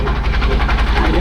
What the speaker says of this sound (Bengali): আর এই যে ইঞ্জিনের শব্দ তারপরে হবে শুনতে পাইতেছেন